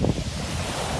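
Sea waves wash at the seaside as a close, rushing surf noise mixed with buffeting wind on the microphone, a brief burst at the start and then a steady hiss, with no talking.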